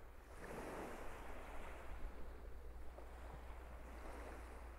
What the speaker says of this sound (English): It's nice just standing here listening to the sea.